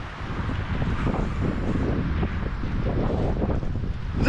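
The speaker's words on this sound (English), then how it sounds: "It just looks like a big old fat grey squall." Strong gusting wind from an approaching grey squall in the Australian outback buffets the microphone loudly and steadily, with no voices, a dense low roar throughout.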